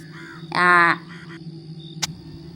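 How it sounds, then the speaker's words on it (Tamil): A crow caws loudly once in the Indian horror game Bramharakshas, a short harsh call standing alone over a quiet ambient hum, followed by a brief sharp click. "இந்த காக்கா சும்மா காக்கான்னு கத்தினே இருக்குது."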